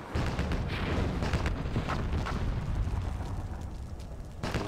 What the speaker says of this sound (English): A lot of explosions going on in the mid.